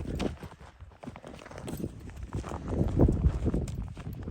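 Stallion hooves walking outdoors with a steady, uneven clip-clop of steps at close range over a low background rumble; no talk is heard.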